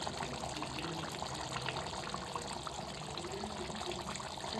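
Squeezed juice from three large lemons pours into a cooking pot of methi pulusu, a steady close liquid trickle and splash with no talk.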